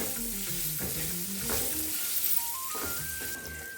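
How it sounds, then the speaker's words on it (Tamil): Bajji chillies sautéing in a pan for a Tamil sweet potato curry, a steady broadband sizzle with stirring scrapes. Faint tonal music or hum runs underneath, and there is no talk. "இப்போ நம்ம பஜ்ஜி மிளகா இருக்குது இல்லையா, அதை போட்டுடலாம். இதை நல்லா ஒரு 2 மினிட்ஸ் சாட்டே பண்ணலாம்."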